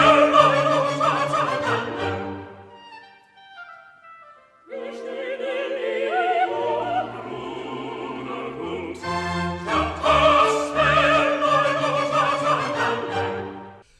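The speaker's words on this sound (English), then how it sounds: "We get a nice little quintet in which, among other things, Tamino, Papageno, and the three ladies are moralizing about what a terrible thing it is to be a liar" Mozart's Magic Flute quintet, with several voices singing together over an orchestra in phrases that pause briefly and then swell back, full and close.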